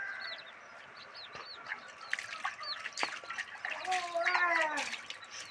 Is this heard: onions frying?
no